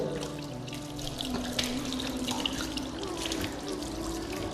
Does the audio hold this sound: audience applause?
no